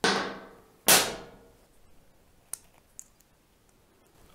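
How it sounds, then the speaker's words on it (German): Plastic magnetic marble run track pieces snap together in two sharp, close clicks, followed by a few fainter light taps in a quiet room. "Ja, diese Magnete, die klicken da gut dran."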